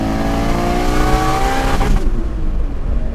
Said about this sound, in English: That's rev limit.